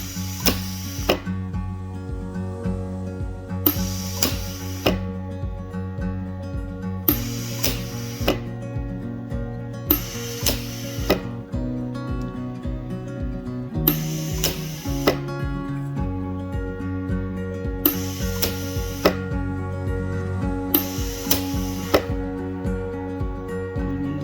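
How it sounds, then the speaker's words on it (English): An Amazon pulse welder joins two pieces of metal in about seven evenly spaced bursts of crackling arc noise, each roughly a second long, over a steady electrical hum. "we're going to weld 2 pieces of metal together"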